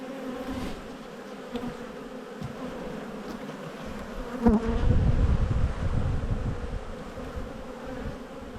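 Honey bees buzz steadily on a brood frame lifted from a white hive, a close continuous hum that swells briefly partway through, with no voices.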